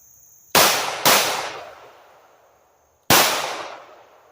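Three loud, sharp gunshots from a snubnose revolver fired at a target until empty, two in quick succession and then a third after a pause, each with a long decaying echo.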